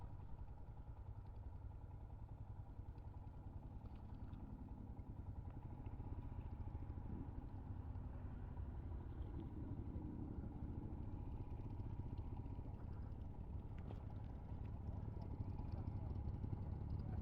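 An old Harley motorcycle engine rumbles steadily on the road, a low, continuous, fairly faint throb heard from a riding Himalayan 411 with a voice speaking over it.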